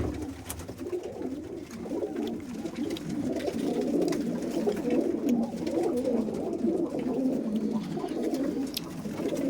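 Pigeons kept for competitive flying, with soft cooing and bird calls over steady ambient noise, continuous and moderately close throughout.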